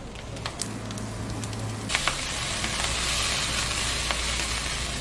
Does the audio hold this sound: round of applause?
no